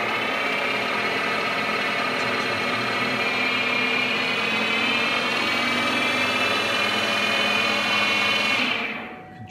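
The spindle of a PM30 CNC milling machine whirs with a steady high-pitched motor whine, close and even, then spins down at the end, with no talking.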